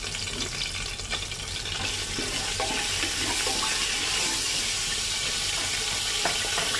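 Spice masala is stirred in hot ghee and oil for an Andhra-style chicken biryani, making a continuous close sizzle and crackle with scattered scraping ticks from stirring.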